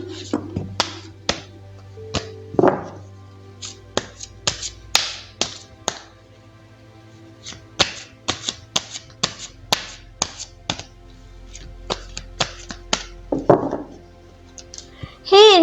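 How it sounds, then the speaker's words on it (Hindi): Tarot cards being shuffled, a series of crisp taps and flicks at an irregular rhythm, close and distinct against a quiet room, with a couple of brief rustling swishes. "तो चलिए पहले ज़रा कार्ड्स को शफल कर लेते हैं।"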